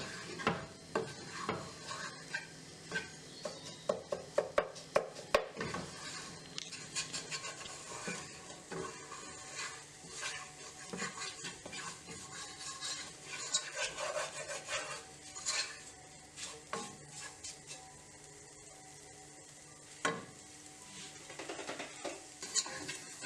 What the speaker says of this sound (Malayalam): അപ്പോൾ അങ്ങനെ മുട്ട ചിക്കിയതും റെഡി ആയിട്ടുണ്ട്.